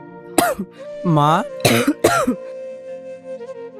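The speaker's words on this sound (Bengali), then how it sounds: "তোমার কাশিটা বেড়েছে নাকি?" A mother coughs indoors in a short burst of several harsh, voiced coughs close to the listener, with soft background music continuing after the coughing fades.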